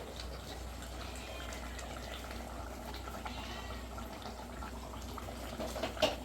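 A pot of chicken gravy, native country-chicken style, bubbling and simmering steadily after the flame is switched off, a soft continuous watery burble with no talk.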